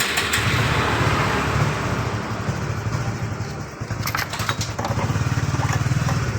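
Yamaha Fino motorcycle with its starter motor under repair in a workshop: a loud, steady engine drone runs nearly throughout, with a brief dip in the middle before the rough idling resumes.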